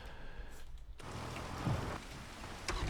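Steady rainfall in the farming game Farming Simulator, a continuous, fairly loud broadband hiss that holds throughout with no voices.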